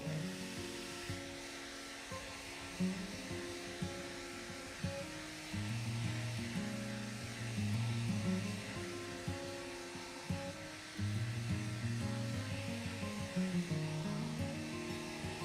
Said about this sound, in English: With the help of my hair dryer.